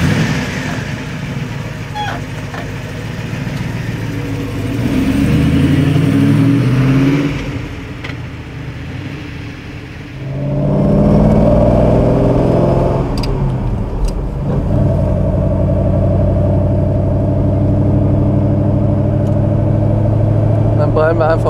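A 1959 BMW 503 Cabriolet Series II on the move, its engine a loud low rumble that rises and falls with throttle and gear changes, heard from inside the open car while someone talks over it.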